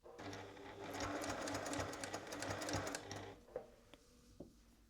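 Close sewing machine running a straight topstitch about 2.5 cm from the edge of a jacket, rapid steady needle chatter for roughly three seconds, then stopping, followed by a few faint clicks and handling taps.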